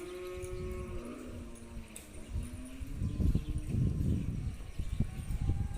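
Low, drawn-out moos from grazing dairy cows on a flooded farm sound over a noisy outdoor background, with a few calls overlapping toward the end.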